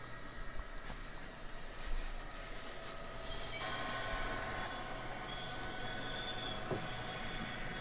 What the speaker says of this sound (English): For this run we're pulling 4 Lima MK3 coaches and a Lima MK2 coach